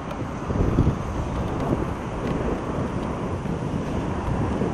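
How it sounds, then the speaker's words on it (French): Gusty wind buffets the microphone outdoors in a meadow, a constant low rumbling rush that swells briefly near the start, with no one speaking. "Je suis désolé pour le vent qui vient de se lever."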